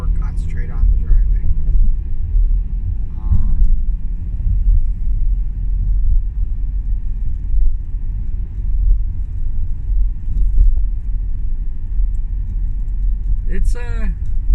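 A car drives steadily along the road during a morning commute, its low engine and tyre rumble constant throughout, with someone talking over it and a few faint clicks and chirps near the end.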